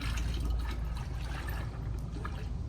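Epoxy floor-coating part B is poured from a gallon container into part A, a steady low liquid glug and trickle running close and continuous for a few seconds without talk.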